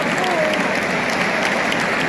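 A stadium crowd at a Ligue 1 match between FC Nantes and Toulouse FC applauds the injured goalkeeper Alban Lafont as he is substituted, a steady, dense wash of clapping filling the whole moment.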